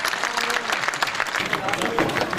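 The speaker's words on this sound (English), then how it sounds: "Give him a big hand." An audience applauds the winner at the 2006 World Championships, with brisk, busy clapping throughout while a voice talks over it.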